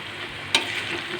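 Spices and ginger-garlic paste sizzle in hot oil for a tempering for bagara rice, a steady close frying hiss with one sharp spatter or stir-scrape just past the middle.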